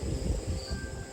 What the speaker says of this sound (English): all I can hear is the crickets